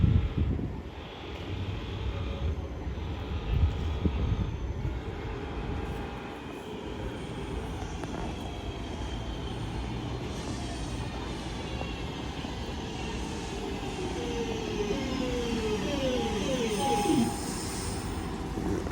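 A Class 323 electric train pulling into St Helens Junction station bound for Crewe, a sustained rumbling roar with rising whines and squealing brake tones toward the end, loud and close without voices.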